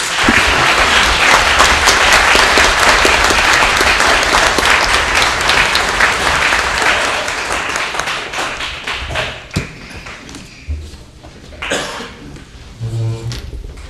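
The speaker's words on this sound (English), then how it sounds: "Let's have a round of applause for the candidates," Audience applause for candidates at a county commissioners debate, loud and sustained dense clapping for about eight seconds, then thinning into scattered claps, a cough and faint murmurs.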